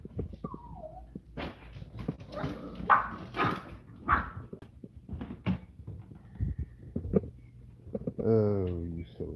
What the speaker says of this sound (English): Oh, you silly dogs.